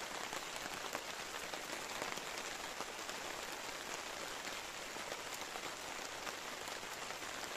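Steady rain falls on hard surfaces at Paraibuna Reservoir, an even hiss of countless drops pattering nearby without letup, no voices.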